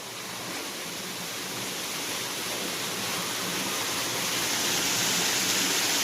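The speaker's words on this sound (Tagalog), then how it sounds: "There's the waterfalls." A waterfall rushes in a steady broadband roar that is heard from some distance and slowly grows a little louder, with no voices over it.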